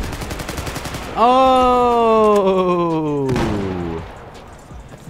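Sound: gunfire in the video game Mafia 3

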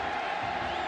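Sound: football stadium crowd cheering

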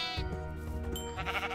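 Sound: sheep bleating in Minecraft modpack video game

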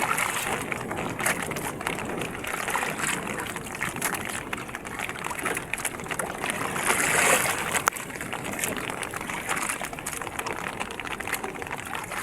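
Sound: sea waves and rain around fishing boat

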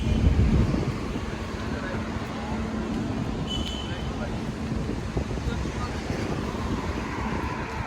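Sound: wind

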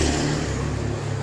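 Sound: motorcycle passing by on the street

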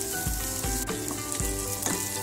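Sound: bay leaves and lemongrass sizzling as they fry

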